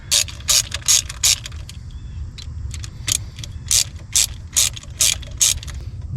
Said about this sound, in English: so I take these two star bolts out